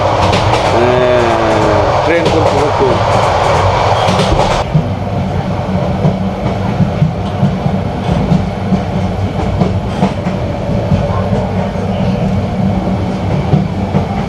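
The Suborno Express passenger train rumbles along the rails near Akhaura Junction, Bangladesh, with loud steady clatter and rattling heard from the carriage doorway, and someone talks over the noise.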